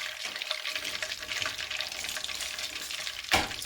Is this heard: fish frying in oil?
yes